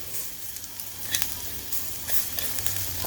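Pork fat roasting in a pan for Thai shrimp glass noodles, a steady close sizzle with small pops and crackles throughout.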